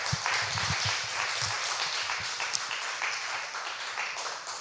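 A church congregation gathered for a Saturday morning revival meeting claps together in sustained, moderately quiet applause, with a few louder individual claps near the start, heard from a little distance.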